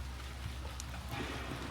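Steady rain falls at the start of a forecast all-day downpour, a soft continuous hiss with faint drops on surfaces, even and unbroken throughout.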